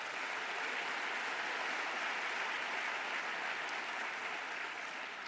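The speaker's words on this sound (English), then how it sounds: "give them a big round of applause for that." A summit audience gives a big round of applause, a dense, steady wash of many hands clapping at once that holds at an even level throughout without any voices.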